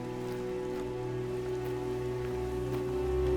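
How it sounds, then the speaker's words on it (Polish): Steady rainfall in the hunting game theHunter: Call of the Wild, a continuous dense patter on surfaces with a constant hiss, heard alone and slowly swelling toward the end. "deszczyk."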